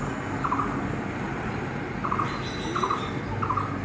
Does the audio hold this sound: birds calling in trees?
yes